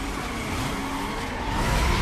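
A pink car's engine roars in the Need For Speed Most Wanted racing game, a continuous loud revving drone with tire and road noise throughout.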